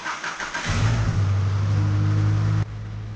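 A 40-year-old Oldsmobile car starts with a brief crank, then its engine catches and settles into a loud, steady idle-to-rev drone as it pulls away, close by with no talk.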